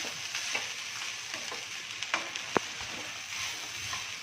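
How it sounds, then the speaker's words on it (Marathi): Steamed rice being stirred into a raw green mango mixture in a pan, with a steady soft sizzle, scattered light scraping strokes and one sharp utensil knock near the end, close and fairly quiet. "आता हा जो आपला भात आहे तो आपण छान याच्यामध्ये मिक्स करून घ्यायचे पूर्ण"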